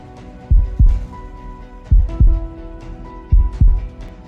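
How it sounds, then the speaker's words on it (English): A deep, strong heartbeat thumps in paired lub-dub beats, three pairs at a slow steady pace over a low hum. "She heard his heartbeat."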